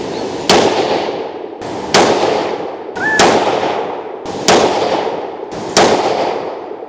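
A 22-250 rifle fires five test-load shots, evenly spaced about a second and a half apart, each a loud sharp crack with a ringing decay.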